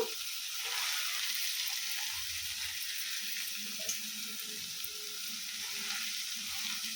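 Onions frying in a small pan for a simple amaranth-leaf stir-fry give a steady, close hiss and sizzle with faint stirring under it and no talk.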